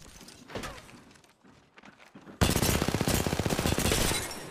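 Gunfire in the video game Apex Legends: scattered shots and impacts at first, then a loud, sustained rapid burst of automatic fire with a steady rhythmic rattle that fades slightly at the end.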